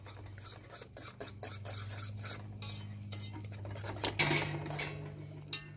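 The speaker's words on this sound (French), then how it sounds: "Je vais le bien mélanger." A spoon stirs a pot of gumbo made with a cup of oil, giving repeated close scraping and knocking against the pot over a low steady hum, with a louder clatter near the end.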